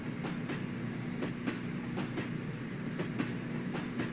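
A CSX freight train of Autorack cars rolls past with an even clickety-clack of wheels over rail joints and a steady low rumble, with no talking.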